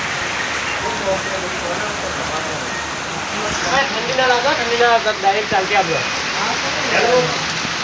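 Rain pours steadily during a windstorm, a continuous loud hiss throughout, while someone talks over it through the middle and end.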